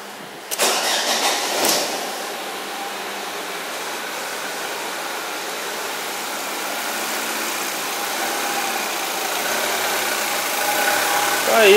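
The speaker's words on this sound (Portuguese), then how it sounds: "Vamos ligar o carro." A rebuilt Fiat Strada engine cranks and catches with a brief loud start, then settles into a steady, close idle that holds evenly and rises slightly toward the end.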